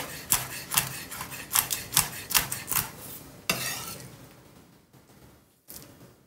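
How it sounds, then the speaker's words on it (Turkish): A knife finely chops a hot chili pepper on a board in quick, sharp taps, about a dozen crisp strikes in an uneven rhythm, then a softer scraping sweep and a last tap. "O acı biberi de önce ince ince kesiyorum"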